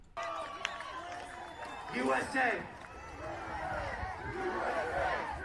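A political rally crowd cheers and chants loudly, a dense roar of many voices that swells around the middle and stays close and sustained throughout.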